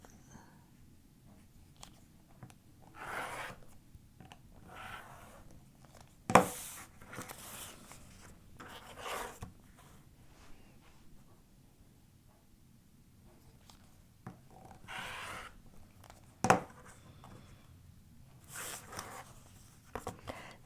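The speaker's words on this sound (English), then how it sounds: "I use a ruler and my rotary cutter, and I just trim off each of the 4 sides" Rotary cutter blade rolling along a ruler to trim the edges of a quilt block's fabric, heard as a series of quiet gritty zipping strokes spaced a few seconds apart, with two sharper clacks, in a calm room without talk.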